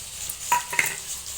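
Mustard seeds, onion, green chillies and curry leaves fry in oil in a pan, a soft hiss broken by a couple of stirring clinks.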